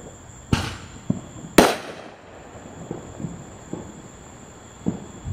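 Fireworks on a July 4th night, two sharp, loud bangs close together, followed by fainter distant pops and crackles against a steady hum of insects.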